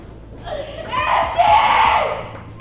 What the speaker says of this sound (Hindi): चीखती चिल्लाती गोपी